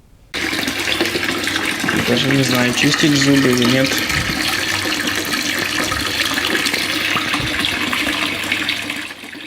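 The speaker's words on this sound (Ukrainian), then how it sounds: "Із кранів зараз тече іржава вода." Rusty water runs from a tap in a dormitory during a water-supply problem, a steady loud gush lasting throughout, with a person talking briefly over it near the start.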